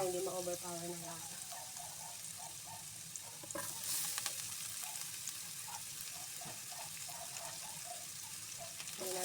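Milkfish (bangus) fries in shallow oil with ginger added, giving a steady close sizzle with faint stirring and scraping, while a voice talks over the top and a brief sharper crackle rises near the middle.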